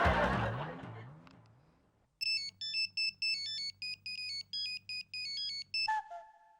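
A phone ringtone rings in a quiet room, a repeating electronic melody that stops abruptly after about four seconds, preceded by a brief voice.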